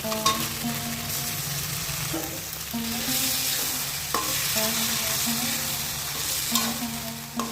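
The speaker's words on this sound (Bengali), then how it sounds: "ওইদিকে মাংসের মশলাও হয়ে গেছে তো ডালটা বলো করে গেছে চল দিয়ে দিলাম লবণ দিয়ে দিলাম এই যে এখন মাংসগুলো দিয়ে দিলাম" Meat sizzles loudly as it fries with spices in a pan, a dense continuous crackle with occasional spoon strokes and clinks, close up.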